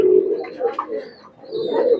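Nildumba pigeons from a home loft give throaty, rolling coos, two bursts close by with a short lull between, no voices present.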